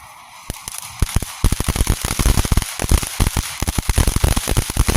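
A Pistol Pete consumer firework from Meijer goes off outdoors in a rapid, uneven burst of sharp cracks and pops that keeps going for several seconds.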